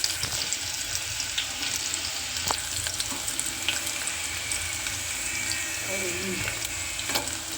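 Chopped garlic and a little green onion fry in hot oil for kadhi, giving a steady close sizzle and spatter with occasional utensil taps and scrapes throughout.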